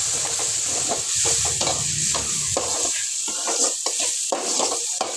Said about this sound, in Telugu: ఉల్లిగడ్డ కరివేపాకు కొంచెం ఎర్రగైతే టమోటా వేసేస్తా అలాగే టమోటా ఒకసారి కలిపేస్తా